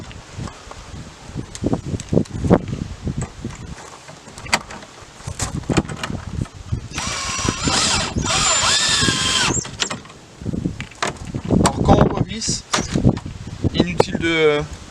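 Power drill driving screws to refit a tail light on a Jeep Cherokee XJ, short whirring bursts around the middle and end of the clip, close and loud, amid handling noise and someone talking.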